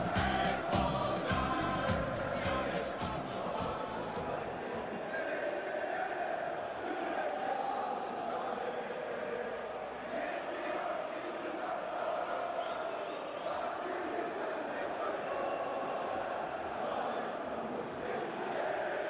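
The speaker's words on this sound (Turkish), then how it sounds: "Taraftarlar tezahüratlarını sürdürüyorlar." Football fans chanting and cheering throughout a stadium in a PES video game match between Galatasaray and Beşiktaş, a steady broad crowd roar with rhythmic chants that holds at an even level for the whole stretch.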